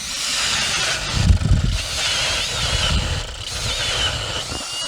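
Battery-powered ice auger drilling a hole through lake ice while ice fishing for bluegills, a steady close whirring grind with a rougher, louder burst of cutting about a second in, continuing evenly to the end.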